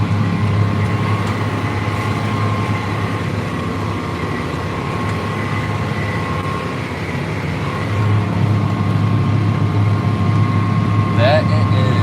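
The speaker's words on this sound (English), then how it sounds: "I like this tractor a lot." A green farm tractor runs during fall tillage, its engine giving a steady low drone and faint tonal whine that hold throughout, swelling slightly near the end.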